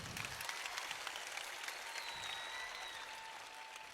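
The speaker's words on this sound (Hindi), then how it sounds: "एक बार ताली गंगा सिंह के लिए हमारे" An audience at a coaching institute's results celebration in Sikar applauds for a student, Ganga Singh, with a steady, fairly distant patter of many hands clapping at an even pace.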